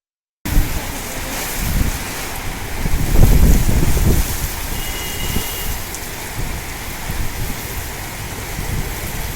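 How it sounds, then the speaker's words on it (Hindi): Heavy thunderstorm rain driven by strong winds, a steady loud wash of downpour with gusty rumbling wind noise that swells midway, with no talk. "अचानक तेज हवाओं, गरज और चमक के साथ शदीद बारिश ने आम जिंदगी दरहम बरहम कर दी"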